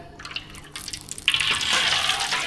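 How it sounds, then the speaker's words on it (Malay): Cooking oil poured into a frying pan, a few faint drips followed by a steady, close liquid stream that fills the rest of the moment, with no talk. "Mula-mula kita buh minyak masuk dulu dah."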